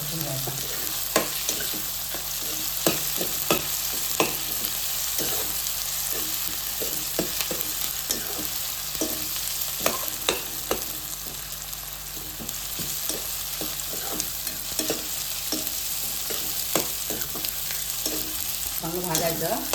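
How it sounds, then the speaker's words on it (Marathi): Garlic fries in a pan for a Konkani-style mushroom curry, a steady close sizzle with regular scraping and clicking strokes of a spatula stirring it, with no talk. "लसूण चांगलं परतून घ्यायचं."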